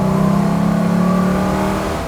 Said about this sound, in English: And floor it.